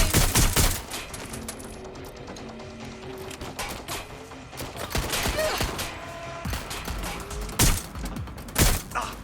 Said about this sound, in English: Shots fired! Shots fired! Get down!